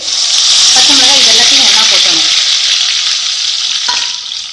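Onion paste with ginger and garlic hits hot oil in a pan, giving a loud, steady sizzle and crackle, with spoon stirring scraping through it and a faint voice in the background.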